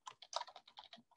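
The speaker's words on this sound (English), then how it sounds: "ignore my bad typing." A quick, close burst of about nine keystrokes on a computer keyboard, fairly quiet and evenly spaced, with no voices.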